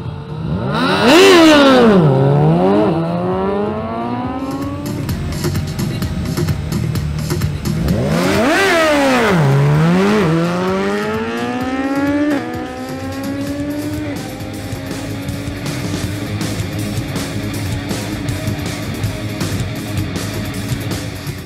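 Sport motorcycles, with a Suzuki Hayabusa among them, race on a track. Engines scream up through the gears in two sharp passes, each sweeping high, dropping and climbing again, before a steadier drone carries on to the end with no talk.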